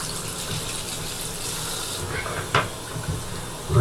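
Running water rinsing a safety razor at a sink, a steady hiss and gush of flow with a brief splash near the end, heard alone.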